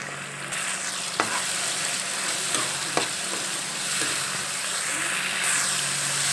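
Ridge gourd curry sizzles in oil as the last of its water evaporates, a steady close frying hiss with occasional ticks and light stirring scrapes, continuous and fairly loud.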